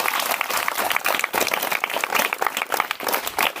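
Audience at a school event honoring government-school girls who excel at national-level karate, breaking into a burst of applause: dense, steady clapping from many hands, close and loud, with no voices.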